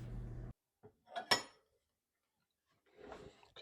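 Knife carving through the crispy skin of a smoked turkey, giving a few brief crackling crunches close up in a quiet kitchen, followed by a short pause and then more soft crackling cuts.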